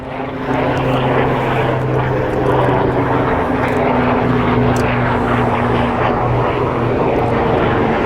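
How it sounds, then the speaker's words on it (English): A propeller airplane drones steadily overhead at the East River in New York City, its engine hum loud and continuous for the whole stretch, no voices. "Love watching the helicopters and planes."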